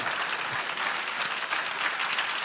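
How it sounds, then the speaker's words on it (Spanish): A church congregation claps for the Lord during a Spanish-language service, a dense, even wall of applause filling the room throughout with no voices standing out. "Dale un aplauso al Señor."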